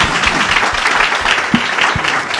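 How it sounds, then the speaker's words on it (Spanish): Audience applause at a Día de la PI 2023 ceremony: a dense, steady wash of many hands clapping close by, with a few heavier individual claps standing out, and no talk over it. "Un gran aplauso a estas dos personas."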